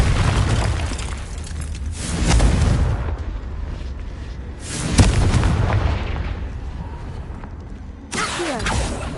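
The Confringo fire spell in the game Hogwarts Legacy goes off in repeated heavy booming blasts, three loud explosions a few seconds apart, each followed by a rumbling fiery decay.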